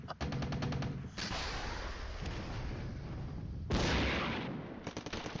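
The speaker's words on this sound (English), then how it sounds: "Shooting back there." Sustained rapid gunfire in the wargame Flashpoint Campaigns: Red Storm, dense machine-gun bursts roaring continuously with a brief lull and renewed loud volley, no talking.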